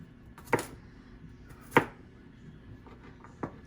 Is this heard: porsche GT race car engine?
no